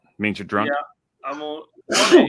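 A single sharp sneeze bursts out at the end of a short stretch of casual conversation between people sharing beers.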